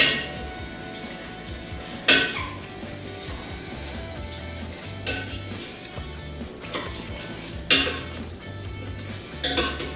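Meat stirred with tomato paste in a metal pot for Turkish et sote, with spoon clinks and scrapes against the pot and a few louder knocks at intervals over a steady low kitchen background.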